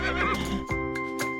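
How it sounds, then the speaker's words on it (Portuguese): A horse lets out a loud, close whinny with a rising and falling tone, followed by shorter snorting bursts, over a steady musical backing in a children's farm-animal song. "Este é o som do cavalo, que vai relinchar de novo."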